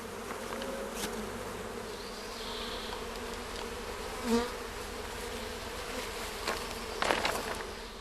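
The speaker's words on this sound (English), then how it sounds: "First, the bees are shaken onto a sheet of plastic." Honey bees shaken onto a plastic sheet to collect a sample for mite testing give off a steady, dense buzzing that holds throughout, with a few brief louder swells.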